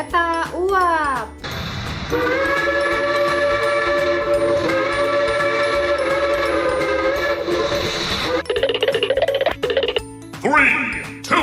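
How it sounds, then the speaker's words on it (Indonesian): A steam train's whistle blows in long, loud, sustained tones with a hissing edge, cut in with short bursts of a child-oriented voice and sound effects before and after. "Kereta uap."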